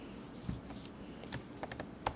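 Someone types on a MacBook Pro keyboard, producing light, quiet key clicks in an uneven rhythm with a few sharper taps, close by and with no one talking.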